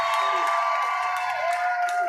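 High school boys' basketball crowd roaring in a gym during a sectional game, a brief dense swell of cheering and shouting with a sustained tone over it.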